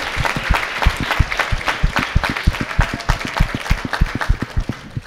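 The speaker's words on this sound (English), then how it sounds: "And give a bigger round of applause to every single graduate in this event." Crowd at a Somali graduation and scholarship ceremony clapping for graduates, with sharp, rhythmic claps close to the microphone over a steady wash of broader applause.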